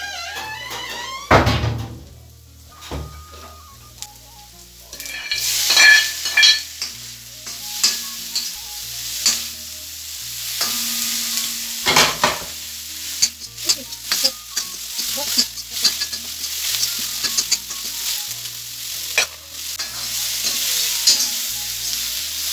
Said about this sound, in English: this is how I prepare my mutton mbuzi fry